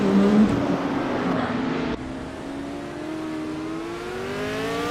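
A 1966 McLaren M race car engine in a racing video game drones steadily, with a rising pitch as it accelerates. After a brief cut, a second tone sweeps upward alongside it.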